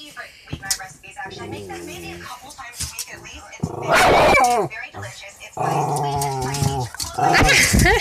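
A female dog growls, yips and barks in short rough bursts during rough play with its owner, close to the microphone, with a person's voice mixed in among the loud snarls.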